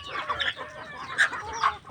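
Pet chickens being fed by hand give a few sharp clucks and squawks in quick succession, close and fairly loud, with quiet gaps between calls.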